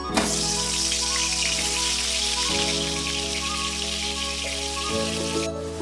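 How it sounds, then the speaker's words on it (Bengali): Continuous sizzling crackle of salted potatoes frying in hot oil, steady and close, with a low hum underneath and no talking. "এবার আমি নুন মাখানো আলুগুলি ভেজে নিচ্ছি"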